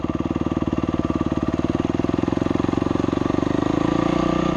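A dirt bike engine runs nearby with a fast, even, loud putter that holds steady and swells slightly toward the end, with no talk over it.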